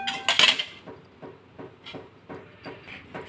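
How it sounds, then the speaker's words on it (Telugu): Beetroot pieces rubbed against a hand grater, a series of short scraping strokes at a steady rhythm, close and fairly quiet, with a brighter clatter near the start. "ఇలా చిన్న ముక్కలుగా చేసుకొని ఒక గ్రేటర్తో అయితే మనం ఇలా తురుముకోవాలి"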